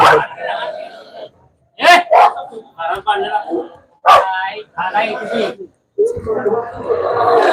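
Dogs bark in loud, irregular bursts close by, mixed with people talking and general commotion at a Ganesh puja community feast.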